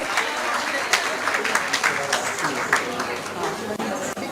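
An audience at a Mahesh Navmi festival claps loudly and steadily after a Shiv Stuti dance, a dense burst of applause filling the room for a few seconds, with a little crowd murmur.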